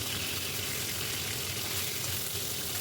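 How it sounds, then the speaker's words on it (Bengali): Continuous dense hiss and crackle of katla fish pieces frying in oil, steady and fairly quiet throughout with no voices. "দেখুন মাছগুলো লাল লাল করে ভাজতে হবে"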